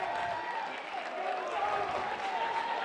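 A home crowd at a college baseball championship game between Baldwin Wallace and Trinity cheers and applauds a called strike, a steady roar of clapping and shouting that holds for a few seconds.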